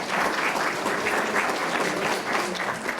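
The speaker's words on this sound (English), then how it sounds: "Can we give them a round of applause?" An audience at a parent council meeting claps for the district translators, a dense, steady burst of applause that carries on at an even level for a few seconds.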